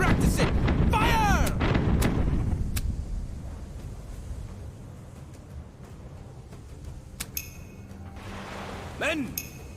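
Cannon fire in a pirate video game, Tortuga A Pirates Tale: a heavy booming salvo with clinking debris in the opening seconds that rumbles away, followed by quieter game effects and pings.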